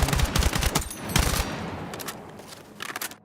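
Automatic gunfire from Battlefield 6 Conquest, loud rapid bursts of shots close up, then fading, with brief pauses between the volleys.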